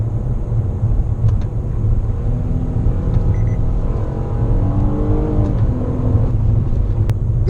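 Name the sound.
2017 Nissan Altima 3.5SL car driving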